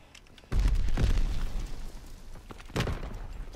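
Grenade explosion in Call of Duty WW2: a loud close boom with a heavy low thud and crackling debris, then a second, smaller blast a couple of seconds later, with no speech.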